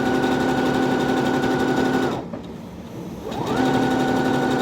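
A sewing machine stitches a circle appliqué, running steadily and loudly, pausing briefly in the middle, then starting up again at full speed.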